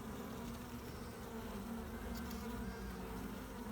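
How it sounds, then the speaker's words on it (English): Honey bees swarming over a hive frame holding full comb, a dense steady buzzing drone close by that fills the whole clip without pause. "This frame, I pulled it out. It's got quite a few bees."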